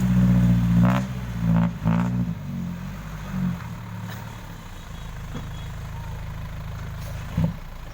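A dump truck engine revs and strains on a slippery road after rain, with loud low rumbling surges in the first few seconds, then a steadier idling drone and a brief final burst.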